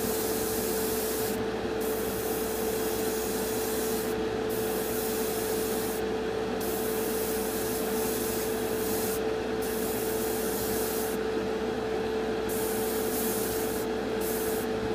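An airbrush or spray can sprays paint onto a Revell Colonial Viper model kit, a continuous close hiss with a steady tonal whine and a few short breaks where the spray cuts out; no speech.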